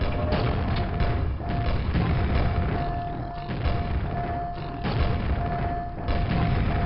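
Gunfire in the video game Quake while shooting fiends: repeated muffled booms and shots over dense, loud game noise with a steady tone, continuous throughout.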